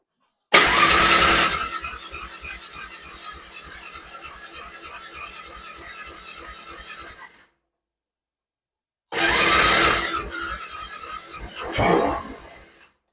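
A Polaris Magnum 425 ATV cranks with a jump pack and catches, running roughly with a rhythmic chugging for several seconds before cutting out, then after a pause cranks again with a short rising burst of firing.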